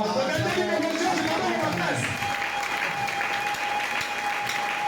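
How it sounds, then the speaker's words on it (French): A church congregation at a thanksgiving service bursts into loud, sustained applause and cheering, dense and close, with voices calling out through the clapping. "Acclamons."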